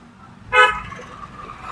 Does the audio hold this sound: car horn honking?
yes